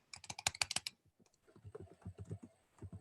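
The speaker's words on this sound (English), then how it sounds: "Start typing." A computer keyboard is typed on during an online webinar, with close, quiet clicks in quick bursts, a short pause, then another run of keystrokes.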